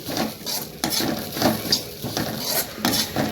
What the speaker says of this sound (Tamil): இதில் மிளகாத்தூள், தனியாத்தூள் சேர்த்து இதையும் நல்லா வந்து இதோட வறுத்துடணும்.